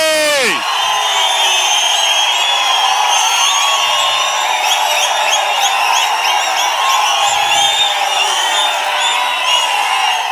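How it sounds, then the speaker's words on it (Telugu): Crowd at a political rally for a candidate in Panamaleru, cheering, whooping and shouting continuously, a loud dense roar of many voices with high yells on top, steady throughout with no pause. "అమర్నాథ్ రెడ్డి గారు మీ చప్పట్లే చెప్తున్నాయి మీ ఆమోదాన్ని"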